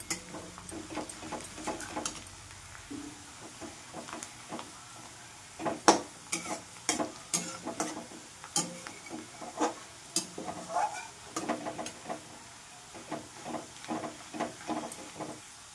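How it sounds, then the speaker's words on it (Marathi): Chopped onion fries in a pan until pink, a low sizzle broken by frequent sharp spatula taps and scrapes against the metal, close and fairly quiet, no talking. "कांदा छानपैकी गुलाबी झालेला आहे, बघू शकता आपण। फ्राय झालेला आहे कांदा"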